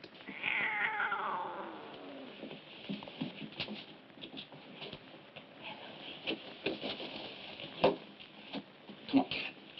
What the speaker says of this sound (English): Hey, cat, get.